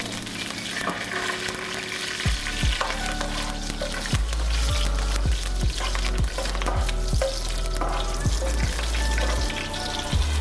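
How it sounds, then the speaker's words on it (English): Curry leaves fry in hot oil in a pan for a South Indian fish curry, crackling and sizzling loudly while a utensil scrapes and knocks in repeated stirring strokes; no talking. "Add few curry leaves to enhance the flavors of south and stir them for a minute."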